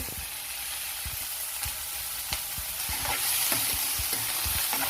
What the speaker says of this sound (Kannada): ನೋಡಿ ಚೆನ್ನಾಗಿ ಎಲ್ಲ ಫ್ರೈ ಆಗಿದ್ದಾವೆ